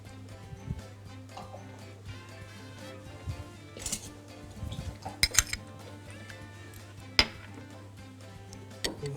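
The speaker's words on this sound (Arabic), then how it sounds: "نهرسه هرسه مبدئيه كده" A utensil mashes boiled eggs and luncheon meat in a bowl, giving irregular scraping and pressing sounds with sharp metallic clinks and taps against the bowl, close and fairly quiet over a steady low hum.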